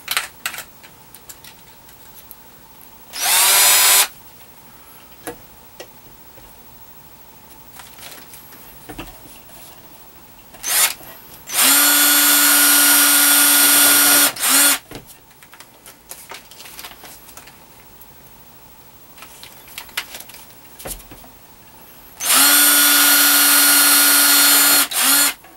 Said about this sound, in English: I'm going to drill this hole. And this is just the pilot hole for the screw